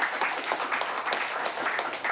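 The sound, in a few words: applause for the organising committee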